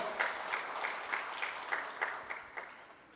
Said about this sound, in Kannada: ಮತ್ತೊಮ್ಮೆ ದೊಡ್ಡ ಚಪ್ಪಾಳೆ